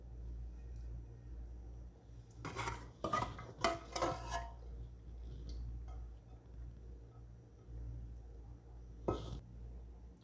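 Rice and leftover korma go into a Karachi-style mutton biryani pot, making a cluster of soft clattering, scraping kitchen sounds followed by one more brief scrape, over a steady low hum.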